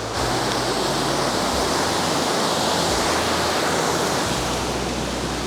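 A large waterfall in Khlong Lan National Park, Kamphaeng Phet, Thailand, roars with a constant, loud, dense rush of falling water close by, with no voices.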